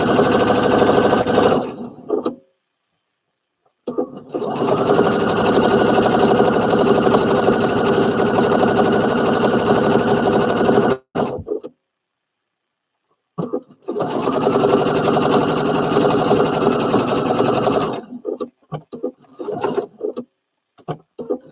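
Sewing machine stitching fabric for a Butterick B5572 garment, a loud, rapid mechanical whirring in long bursts of several seconds, broken by short pauses and a stretch of silence, with no voices.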